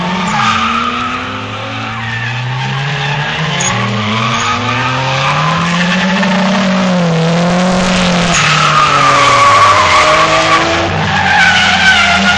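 A Nissan and a BMW drift in tandem at a drift challenge event in Pusey, tires squealing in long sliding wails over loud revving engines that rise and fall as the cars swing through the course.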